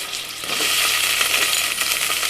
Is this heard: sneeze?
no